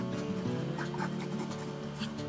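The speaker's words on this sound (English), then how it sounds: "I'm mixing up some quick epoxy here." Quick-setting epoxy being stirred by hand for a crayfish fishing lure, a close, continuous soft scraping and rubbing with faint clicks, steady throughout with no talk.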